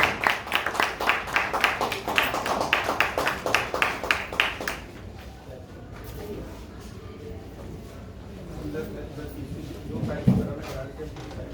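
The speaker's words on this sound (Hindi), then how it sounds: "जोरदार तालियों से उनका स्वागत करेंगे" An audience applauds to welcome the chief guest, a Deputy Chief Minister of Uttar Pradesh, at a stage play event. Loud rhythmic clapping runs for about five seconds and then gives way to a quieter murmur of crowd and talk.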